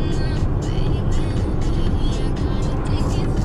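A car driving along a highway near Bor in Russia, heard from inside as a steady loud road and engine rumble with someone talking over it throughout.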